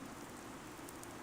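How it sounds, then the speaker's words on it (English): Rain falling in a video game, a faint, even hiss of steady rainfall with soft patter and no other sounds standing out. "Oddly, the rain has come to fall yet again."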